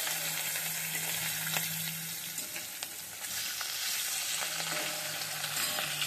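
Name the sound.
hilsa fish frying with salt and turmeric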